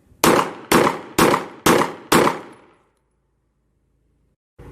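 Five loud pistol shots fired at a target on a shooting range, evenly spaced about half a second apart, each with a sharp crack and short ringing decay, followed by silence.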